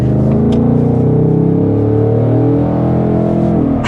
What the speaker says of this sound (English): we also, of course, turned on the sport exhaust because, obviously. Yeah, it's in sport mode.